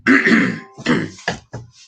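A man coughs and clears his throat in several harsh bursts, a long rasping one first, then shorter coughs tapering off, close and fairly loud with no talk.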